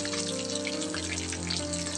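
Flour-coated fish frying in a pan of oil, a soft steady crackle and sizzle close by, faint and continuous with a low hum underneath and no talk.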